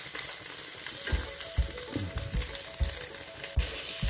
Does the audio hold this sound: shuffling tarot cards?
no